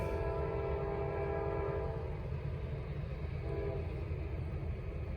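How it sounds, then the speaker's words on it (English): Norfolk Southern freight train passing, a loud sustained multi-tone horn blast for about two seconds, then a shorter second blast over the steady rumble of rail cars. "Alright, this might be the last train right here."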